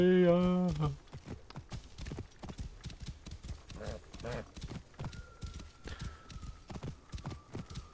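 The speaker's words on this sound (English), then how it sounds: "I feel bad about making my horse run so hard." A horse gallops in the video game Assassin's Creed Origins, a brief whinny at the start giving way to rapid rhythmic hoofbeats that continue steadily under a faint tonal game sound.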